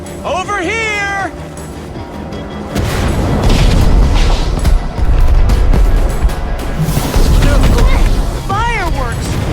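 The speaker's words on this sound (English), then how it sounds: "Fireworks!" Fireworks in the Minecraft Story Mode video game: whistling, rising squeals give way to a loud, sustained barrage of booming blasts and crackle, with another whistle sweeping in near the end.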